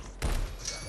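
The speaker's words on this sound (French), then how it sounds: "Heureusement, j'ai un fusil à pompe." Pump-action shotgun fired in the sci-fi shooter Alienation, one loud booming blast over a steady game-ambience hiss, with a brief mechanical tail as the shot fades.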